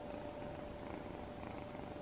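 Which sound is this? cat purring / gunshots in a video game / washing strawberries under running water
cat purring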